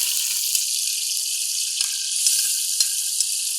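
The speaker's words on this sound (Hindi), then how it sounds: "आयल हमारा तकरीबन गर्म हो गया। अभी हम इसमें शामिल करेंगे प्याज।" Finely chopped onions sizzling in hot oil for a chicken karela dish, a bright continuous hiss with a few soft clicks of stirring, close and alone.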